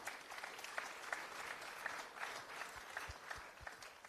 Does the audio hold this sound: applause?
yes